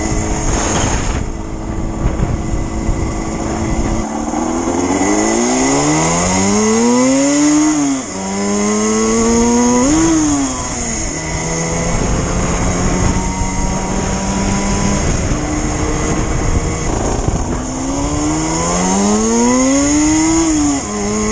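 A Huskzuki 200 motorcycle engine revs up and down through the gears on a test ride, pitch climbing and dropping in repeated sweeps over steady wind rush, loud and close throughout; no speech.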